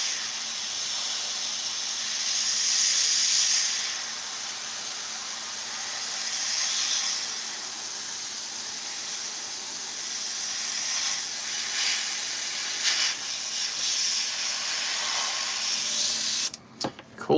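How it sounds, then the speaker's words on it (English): An airbrush sprays paint with a steady soft hiss that swells and fades in several passes, close by, with a few clicks near the end. "We're getting there with the old airbrush paint"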